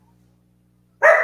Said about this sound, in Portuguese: Ah, desculpa, meus cachorros estão aqui.